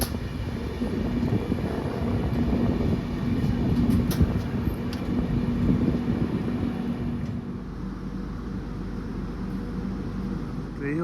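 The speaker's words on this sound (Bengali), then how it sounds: "তো এই হচ্ছে নকশালবাড়ি স্টেশন" A train at Naxalbari railway station on the Northeast Frontier Railway, after a night of rain, gives a steady, loud low rumble with rail noise that eases into a quieter hum for the last few seconds.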